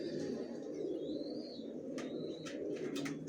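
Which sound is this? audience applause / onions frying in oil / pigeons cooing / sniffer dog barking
pigeons cooing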